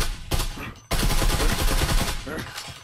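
Rapid gunfire in the VR shooter Breachers VR, a dense burst of loud, close automatic shots after a short pause, then continuous rattling fire through the rest, with faint voices behind.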